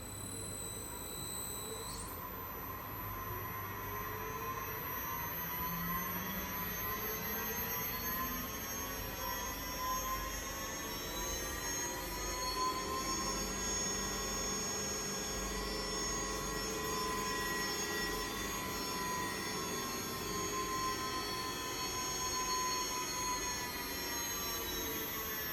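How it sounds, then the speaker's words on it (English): A Rawsuns RSTM420 hybrid electric boat motor runs in reverse with a steady high-pitched electric whine that sweeps gradually in pitch, a constant even hum with no talk over it. "We can see the motor will run on the other direction."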